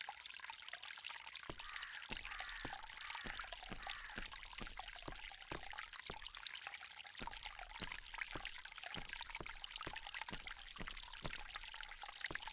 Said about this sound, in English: This fountain makes a very relaxing sound.